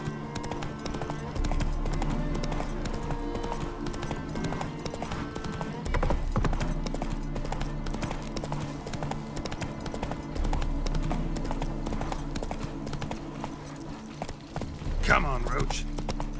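Horse hooves clip-clop steadily at a gallop in The Witcher 3, the mount running beneath a continuous layer of game music, with a brief rustling burst near the end.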